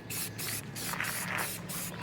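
A spray can hisses out crackle paint in short bursts, a loud close aerosol spray that repeatedly pauses and restarts in a steady rhythm.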